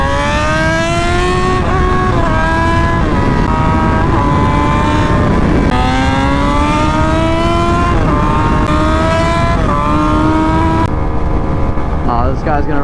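A straight-piped Yamaha FZ1 motorcycle ridden fast, its raw exhaust loud and close as it climbs through the gears in rising pulls with shifts between them, then drops off near the end.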